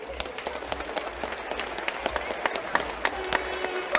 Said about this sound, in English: So a clap for both the football board and Tuam Stadium.